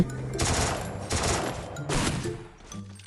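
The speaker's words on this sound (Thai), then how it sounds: "ผมยิงไปโคตรเยอะยิงหัว ไม่ตายเฉย" Rapid bursts of gunfire in the Free Fire video game come in three loud, close clusters of automatic shots with brief gaps between them, and short in-game tones sound between the bursts.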